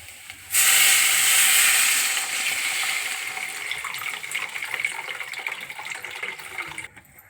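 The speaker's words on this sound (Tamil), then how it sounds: "புளி தண்ணி இதில் ஊற்ற போகிறோங்க" Tamarind water pours and hisses loudly into a pot of mutton rasam, a sudden rush that settles into a steady sizzling, bubbling stream before cutting off.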